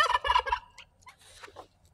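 A turkey gobbles once in a rapid, rattling burst, followed by softer chirps and clucks; fairly close with no talking.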